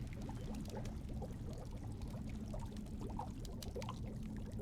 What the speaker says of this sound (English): The goulash is bubbling in the cauldron.